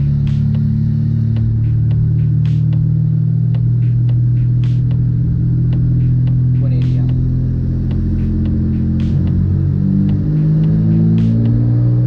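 A car engine roars hard through a dyno pull, its loud rumbling drone rising and shifting in pitch across the whole stretch, with sharp periodic ticks above the engine note.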